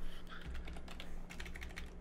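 Rapid clicking of a computer keyboard, irregular keystrokes close by and fairly quiet, with a faint low hum underneath.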